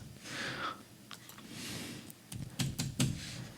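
Light clicks of keys tapped on a computer keyboard, a short, quiet, irregular burst of keystrokes with faint breathing in the background.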